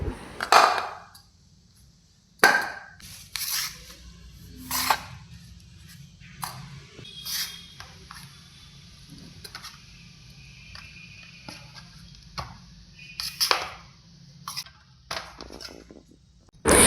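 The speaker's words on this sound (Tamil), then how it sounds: "மாஸ்டர் என்ன பண்ணுறாருன்னா இதை சின்னதாக கட் பண்ணுறாரு" A street-food cook cuts pani puri dough into small pieces on a metal surface, giving sharp, scattered clinks and taps separated by quiet gaps, close and moderately loud, with no talking.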